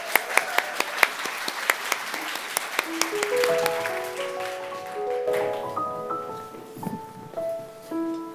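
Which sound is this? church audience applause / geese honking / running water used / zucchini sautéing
church audience applause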